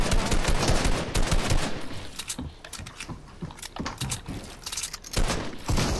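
Gunfire in a Fortnite match, dense rapid bursts of shots with loud cracks and short gaps, a heavy volley returning near the end, no speech.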